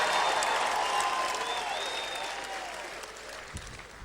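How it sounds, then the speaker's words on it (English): An audience of women claps together in sustained applause at a leadership talk, a dense steady wash of hands that stays loud before slowly thinning and fading toward the end, with a faint voice underneath. "Come on, ladies, clap for me just for a couple seconds here."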